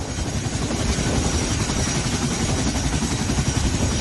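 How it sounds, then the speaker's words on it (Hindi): An Air Force rescue helicopter flies over flood-hit areas in Punjab, Jammu and Kashmir and Himachal Pradesh, its rotor and engine making a loud, steady, close droning roar with no pauses or voices. "तो ये देख रहे हैं आप किस तरह से एयरफोर्स का हेलीकॉप्टर के जरिए ये ऑपरेशन यहां पर जारी है"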